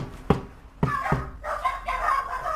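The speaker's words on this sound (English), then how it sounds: "Little doggies here, I think." Small dogs bark in a few sharp, separate yaps indoors at a house in Stafford, close and fairly loud, followed by softer whimpering and yipping.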